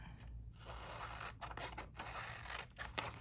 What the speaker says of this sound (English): just cut it out.